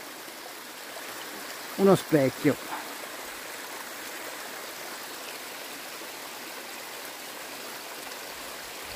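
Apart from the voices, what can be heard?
water flowing down a forest stream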